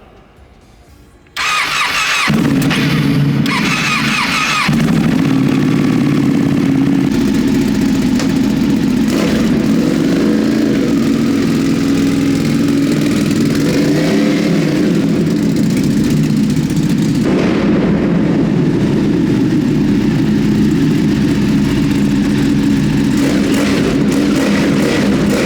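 A tuned Ducati Panigale V4 motorcycle cranks and fires up, then settles into a loud, close, rumbling idle with occasional revs.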